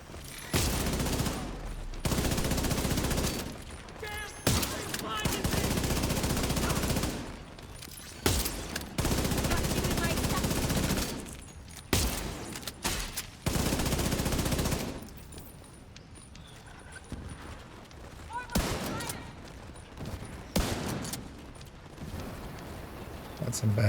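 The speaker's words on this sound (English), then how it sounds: "That's some bad shooting on my part." Video game gunfire in dense bursts and sustained automatic volleys, loud and close, broken by short pauses, with a voice speaking in between.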